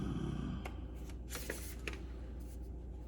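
Affirmation cards being shuffled and drawn make soft, papery riffles and flicks, faint and close over a steady background hiss.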